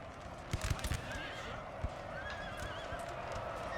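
Horses whinny over galloping hooves amid a cavalry battle in Napoleon: Total War, with a few sharp neighs and thuds standing out against a steady din of distant fighting.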